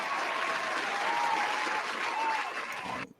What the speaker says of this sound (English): Round of applause for our predictions.